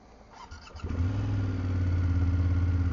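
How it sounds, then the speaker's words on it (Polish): A BMW F800GS motorcycle engine fires up after a few faint clicks, then settles into a steady, loud, rumbling idle close by. "głośny motocykl."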